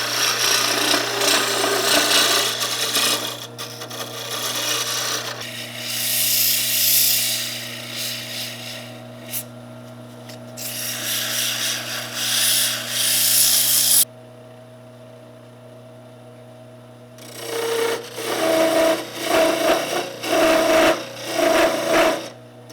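A laminated wood Christmas ornament is shaped with a basic taper on a spinning lathe, bursts of rasping tool-on-wood scraping alternating with the lathe motor's steady hum, with a brief quieter pause before cutting resumes.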